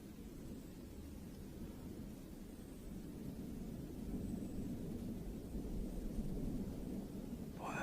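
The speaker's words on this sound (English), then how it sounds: "Boy, that's a big jet." A large jet aircraft passes overhead above a wet wooded area, a steady broad roar that swells slightly and stays constant throughout, fairly faint and distant, with no talking.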